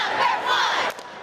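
Students at a school sports game cheer and yell as a crowd, a loud sustained roar that dips and fades near the end.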